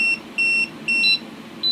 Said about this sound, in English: it's a few counts out, but also beeps and gives the warning about high voltage